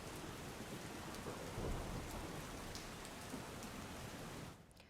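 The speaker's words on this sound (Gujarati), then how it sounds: "વરસાદ વરસી રહ્યો છે।" Steady rain falls across the Sabarkantha district of Gujarat, with thunder rumbling low beneath a dense, continuous wash of drops that swells slightly midway and cuts off sharply near the end; no voices.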